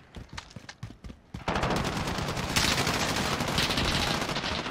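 Gunfire from Call of Duty Modern Warfare, a few scattered sharp shots first, then a dense, sustained burst of rapid automatic fire that stays loud and close to the end.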